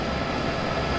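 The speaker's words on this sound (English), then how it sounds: "And we got a CSX local train, freight train." A CSX local freight train in the Train Simulator 2015 video game gives off a steady, dense rumble with broad mechanical noise that holds unchanged for a brief moment, with no voices.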